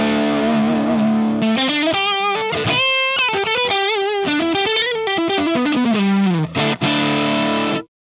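Electric guitar with a single-coil pickup played through a Plexi amp model on a NUX MG30 multi-effects unit, giving a loud, overdriven tone with sustained notes and chords that ring out alone for about eight seconds before cutting off.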